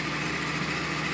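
A 2012 Yamaha R1 motorcycle engine idles steadily while warming up, unbroken with a low rumbling drone, close and constant, with no revving or voices.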